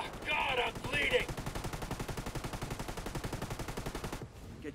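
Rapid automatic gunfire from the video game Ghost Recon Wildlands in PvP, a long rhythmic burst of evenly spaced shots with brief voice chatter at the start, stopping abruptly near the end.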